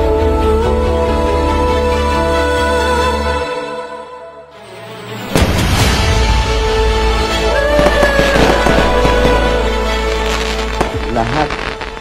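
Loud fireworks bursting and crackling over steady background music, with a brief lull before a dense run of pops and sizzling crackles.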